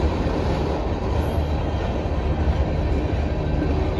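A long CN freight train with a DPU locomotive rolls past near Sarnia, Ontario, a loud continuous rumble of wheels and cars that stays steady throughout, with no voices.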